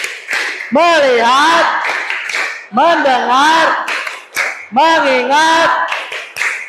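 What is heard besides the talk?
class clapping in rhythm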